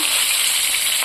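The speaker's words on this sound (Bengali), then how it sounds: "এখানটা দেখো মাছ ভাজা হচ্ছে" Rohu fish frying in hot oil gives a steady, loud, bright sizzle with no pauses and no voices.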